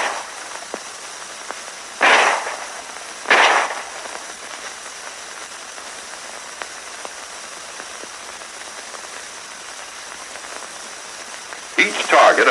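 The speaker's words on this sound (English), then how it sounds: "Now let's see how these same men will do with live ammunition." An M1911A1 .45 pistol is fired live with tracer ammunition on a WWII-era training range: two sharp, loud reports about a second apart, then another burst near the end, over a steady faint hiss.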